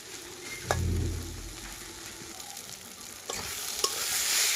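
Tomato bharta with coriander leaves fries in a pan, with steady sizzling under repeated stirring scrapes and a few sharper clinks. It is close and moderately loud, with no voices.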